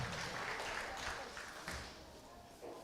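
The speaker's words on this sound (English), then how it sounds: "Give her a round of applause." Applause breaks out for a young exhibitor at a junior beef cattle show, a moderate, somewhat distant clapping that fades over a few seconds.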